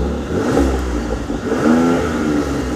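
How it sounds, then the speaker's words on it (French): Up close, a convertible car's engine revs in a few rising and falling bursts over a steady idle rumble, with no voices. "on va vous faire écouter le son moteur"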